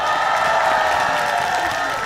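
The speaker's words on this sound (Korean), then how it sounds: "다시 한 번만 박수 한번 주시겠어요?" A festival concert audience at the Mungyeong Omija Festival applauds and cheers loudly, a dense, continuous wash of clapping with scattered whoops filling the whole stretch.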